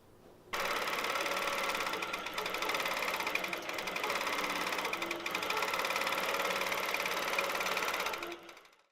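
An Autopilot Mach 3 computerized quilting machine sews an edge-to-edge pattern, its motor starting abruptly and running at a steady, rapid stitching hum with a fine rhythmic needle chatter, close and continuous for about eight seconds before winding down.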